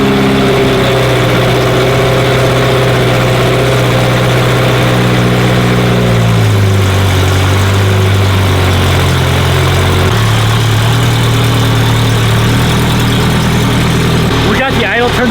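A twin-turbo Honda NSX engine on its first start idles with a steady, loud drone, its pitch stepping down twice as the high idle is lowered.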